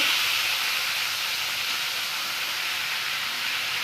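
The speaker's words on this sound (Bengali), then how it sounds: "তেলটা গরম হয়ে গেছে এবার আমি চিংড়িটা দিয়ে দেবো এবার আমি চিংড়িগুলো ভালো করে ভেজে নেব" Prawns fry in hot oil for chili prawn, giving a steady, loud, unbroken sizzling hiss that holds at an even level from start to end.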